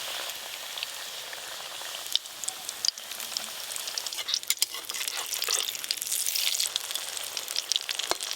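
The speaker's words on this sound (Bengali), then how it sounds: "কোপ্তা ভাজতে বেশি সময় লাগে না" Pea koftas (matar kofta) frying in hot oil, a steady crackling sizzle throughout with a few louder pops and spatters, close and continuous with no talking.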